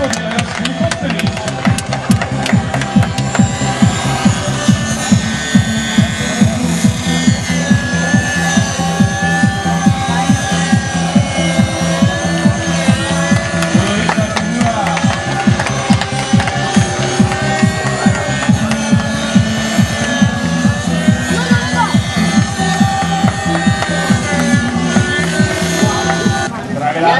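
A model helicopter flies at an F3A aerobatics competition, giving a loud continuous engine whine with rapid rotor chopping throughout, while people talk over it.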